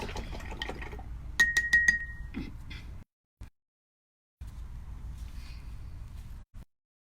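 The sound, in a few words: rinsing a paintbrush in water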